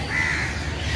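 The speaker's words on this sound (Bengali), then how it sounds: "সন্ধ্যা হয়ে গেছে, চারিদিকে পাখিগুলো ডাকছে এখন।" Crows cawing at dusk make a loud, close, harsh call that lasts the whole brief moment, with no voices over it.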